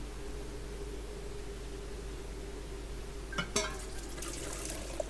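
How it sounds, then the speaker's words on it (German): Water splashes briefly into a fire extinguisher in The Silent Age, a short burst of pouring near the end over a quiet, steady background hum. "den Feuerlöscher wollten wir noch mit Wasser füllen."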